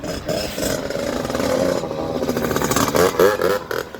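A small SYX-R 50 motorbike engine buzzes close by, revving steadily with a rising and falling drone as it rides around a neighborhood.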